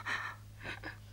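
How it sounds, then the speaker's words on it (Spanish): A sick woman gasps and pants in laboured, anxious breaths, two or three sharp heavy intakes heard close up in a radio drama. "Esta respiración jadeante y un estado muy acusado de ansiedad que noto en ella"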